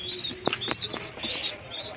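Domestic pigeons in a home loft, including a sand-faced hen, give soft low coos mixed with brighter chirping calls, close and fairly steady over two seconds.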